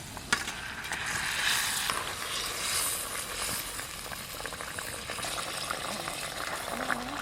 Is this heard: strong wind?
no